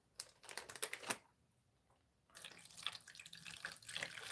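Water poured from a container to soak banana pepper plants, splashing in bursts, pausing briefly, then resuming as a steady uneven pour, close and alone.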